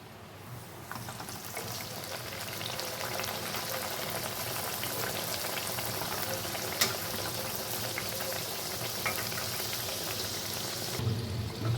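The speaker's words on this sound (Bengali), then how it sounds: "এখন আমি এক এক করে পুরিগুলো ভেজে নেব" Sattu-stuffed puris fry one at a time in hot white oil in a wok, a soft, even bubbling sizzle heard close and fairly faint, continuous throughout with no talking.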